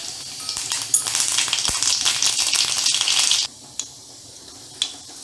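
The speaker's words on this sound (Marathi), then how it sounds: "तेल गरम झालंय, त्यात मोहरी," Mustard seeds sizzle and crackle in hot oil in a kadhai, a dense continuous fry hiss for over three seconds that then drops away, leaving a few isolated sharp pops.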